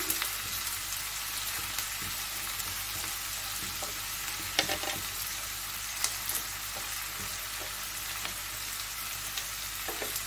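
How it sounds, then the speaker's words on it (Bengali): Capsicum with onions sizzles and crackles steadily in a hot pan, with occasional soft scraping as it is stirred. No one speaks. "এবারে ক্যাপসিকামটা দিচ্ছি।"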